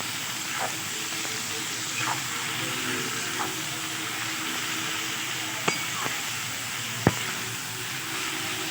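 Banana flower frying with spices in a pan while being stirred, a constant sizzle and hiss broken by occasional light scrapes and a couple of sharper knocks of the utensil, with no speech.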